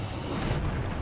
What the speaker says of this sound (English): the explosion always goes out forwards in front of Brachydios